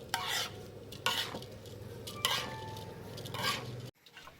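A spatula scrapes and stirs through rice in a very large pan, coating it with oil for Thai duck rice, several sweeping strokes with faint sizzling underneath, ending abruptly.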